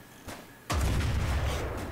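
Anti-tank bunker firing at a train in a video game, one faint thump followed by a loud heavy boom that rolls into a sustained low rumble.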